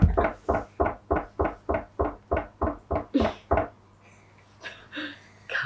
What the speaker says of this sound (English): here it came, the next knock on the door